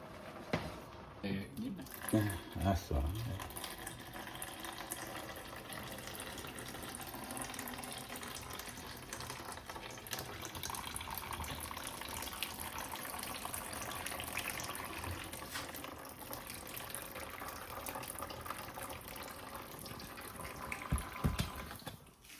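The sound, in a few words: pasta water poured through a strainer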